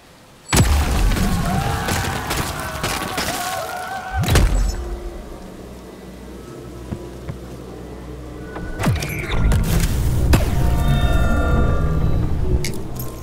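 Pack-a-Punch weapon upgrade in Call of Duty Black Ops 4 Zombies, several heavy booming thuds and mechanical clanks spaced out amid rumbling game ambience, with a short metallic rattle near the end.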